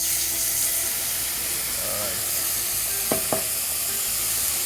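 Whole butter and tequila sizzle steadily in a hot pan with caramelized fish, a continuous loud hiss broken near the end by two short, sharp clinks.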